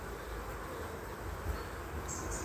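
Honey bees buzz around an open beehive in autumn, a low, continuous hum of many insects with occasional closer flybys, faint and steady with no talking.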